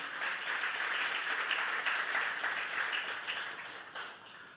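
A church congregation's youth group claps together in a steady, even wash of applause that swells and then fades slightly toward the end, with no voices over it.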